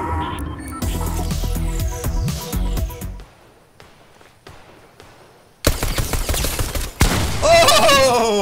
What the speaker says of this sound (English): She got us with one pump gun shot!